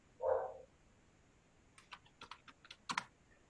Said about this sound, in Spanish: en el teclado, si nosotros oprimimos las teclas